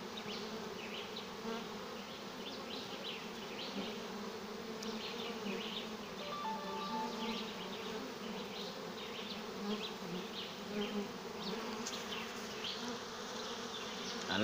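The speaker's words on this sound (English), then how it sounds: "Still a lot of bees flying around." A dense buzzing of many bees flying around, steady and fairly faint, with individual insects droning past now and then.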